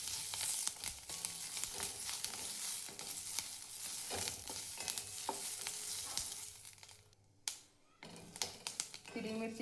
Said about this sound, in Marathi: हिरवी मिरची छान भाजून घ्यायची